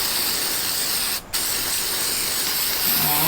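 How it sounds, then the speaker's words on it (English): An aerosol spray can hisses loudly and continuously at close range, pausing briefly once before resuming, while parts are coated during a 1997 Nissan Hardbody D21 internals build. "So I'm gonna go ahead and spray one side."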